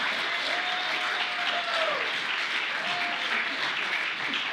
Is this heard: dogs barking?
no